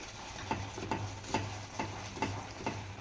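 Carrot gulab jamun dough with semolina and milk is worked in a bowl, a spoon scraping in an even rhythm of soft knocks about twice a second, close up and without talk.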